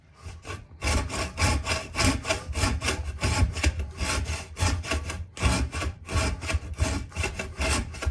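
Firewood being sawn by hand in freezing English weather, for a fire indoors: steady, rhythmic rasping strokes with short pauses between them, close and fairly loud, with no voices.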